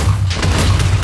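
A bazooka loaded with C4 fires and explodes in Minecraft with the More Explosives mod, one heavy deep boom that rumbles on for about a second, loud and close, with no talking.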